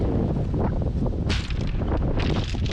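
Strong wind gusts buffet the microphone on the Scottish coast near a fishing town, a loud, continuous roaring rush that swells and dips.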